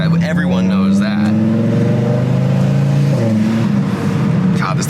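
A turbocharged Mitsubishi Evo accelerating, its engine note climbing steadily and then dropping away before climbing again. The sound is loud and close, with a brief voice heard near the start and again at the end.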